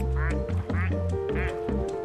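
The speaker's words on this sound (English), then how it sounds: "I can make you quack." A plastic rubber duck quacks in the video game Placid Plastic Duck Simulator, giving several short, nasal quacks in an even rhythm over steady background music.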